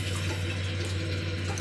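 Water being pumped from the starboard tank to the port tank of a boat, heard as a steady close liquid flow over a constant low pump hum, continuous throughout with no talking.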